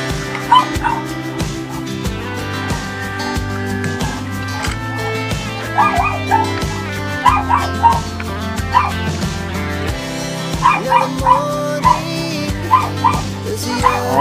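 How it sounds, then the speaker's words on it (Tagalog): Dogs bark and yip repeatedly in the distance, short sharp barks scattered over steady music playing throughout. "kumakahol ng mga aso ng kapitbahay"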